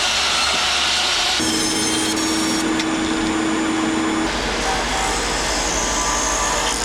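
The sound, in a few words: sawing out Atlantic white cedar lozenges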